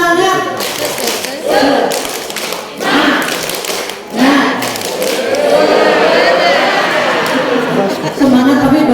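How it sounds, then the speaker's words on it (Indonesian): A seated audience at a gathering of early-childhood (PAUD) educators claps in rhythmic bursts of a patterned group clap, sharp taps mixed with crowd voices and chatter, loud and close. "Kita boleh dong tepuk semangat ya."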